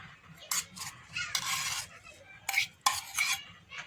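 Grated cabbage and carrot tossed together in a bowl with a spoon, giving a series of short, close scraping and clinking bursts in an irregular rhythm, with no talking.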